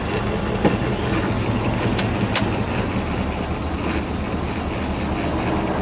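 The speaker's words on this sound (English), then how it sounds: "Just like Dave said, that started as fast as the Crescent did" A Mercury pace car idles steadily after a cold start, a continuous broadband engine rumble with a couple of brief sharp clicks near the start and midway, close and fairly loud throughout.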